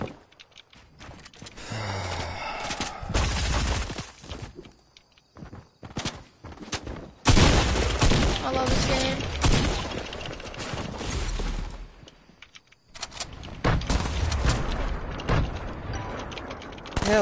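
Video game gunfire amid clattering mechanical noises and footsteps: scattered sharp shots and bursts of varying loudness, with quiet gaps between, and a voice briefly heard.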